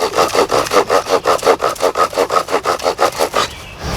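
A bow drill spins a wooden spindle against a wood board during a fire-lighting attempt, giving a loud, close, rhythmic rasping that repeats back and forth about four times per second before stopping near the end.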